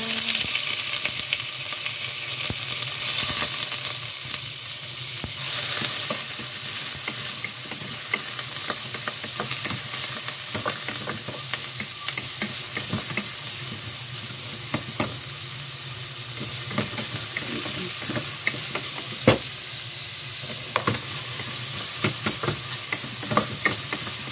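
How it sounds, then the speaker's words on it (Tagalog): Meat sautés in a frying pan with a constant loud sizzle and hiss, broken by frequent scrapes and taps of a spatula as it is stirred, near and without talking. "umpisa na natin gisa-gisa"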